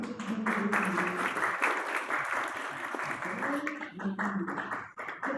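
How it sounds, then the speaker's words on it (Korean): An audience in a lecture hall at an AI seminar gives a round of applause after a talk, steady dense clapping throughout with a voice talking over it from a microphone. "유익한 이론을 진행을 해주신 트럼나 AI 유승재 대표님께 다시 한번 큰 박수 부탁드리겠습니다"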